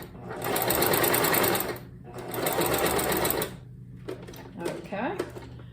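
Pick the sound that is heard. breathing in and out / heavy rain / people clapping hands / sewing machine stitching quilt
sewing machine stitching quilt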